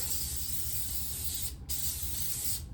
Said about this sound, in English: Spray a little hairspray.